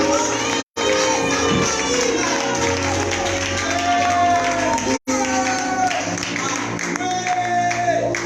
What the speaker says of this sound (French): Aide-moi à apprécier mes parents